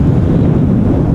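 Strong storm wind at Amsterdam Schiphol Airport during Storm Pia, a loud continuous roar buffeting the microphone with deep rumbling gusts and no other sounds.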